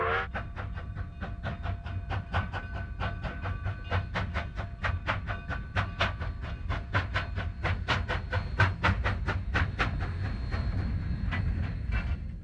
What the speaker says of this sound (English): Mikado number 487 leads the westbound train out of Antonito